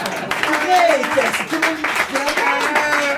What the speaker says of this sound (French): Ok, on applaudit.